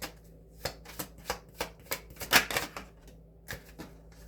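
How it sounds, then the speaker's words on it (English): Tarot cards shuffled by hand in a quiet room, a run of crisp riffling bursts and snaps, mostly evenly spaced, with one denser flurry partway through; close and fairly soft, no voices. "Let's just shuffle and see what comes out"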